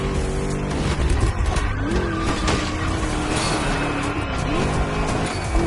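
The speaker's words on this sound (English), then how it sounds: "Just listen to that V8 like a chunky, down-tuned guitar riff" V8 car engine in the racing video game The Crew Motorfest, loud and continuous with rising and falling revs and tire squeal, no talk over it.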